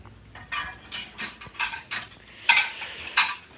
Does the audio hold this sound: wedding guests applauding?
no